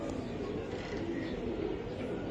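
Soft, low cooing of racing pigeons murmurs faintly under a dense, noisy background, continuous and muffled with no clear individual calls standing out.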